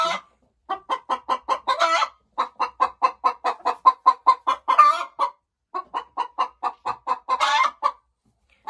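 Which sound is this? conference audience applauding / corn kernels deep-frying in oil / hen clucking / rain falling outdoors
hen clucking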